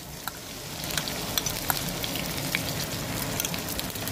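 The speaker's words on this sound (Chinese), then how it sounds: "我们就把这个我们剁好这个豆瓣酱下入" Minced meat sizzles in a wok with chopped chili bean paste as it is stir-fried for beef rice noodles, a steady close hiss with sharp spatter pops and scraping stirs throughout.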